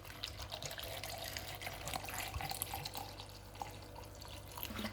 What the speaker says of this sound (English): I'm going to add some water over it.